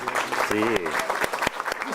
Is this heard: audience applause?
yes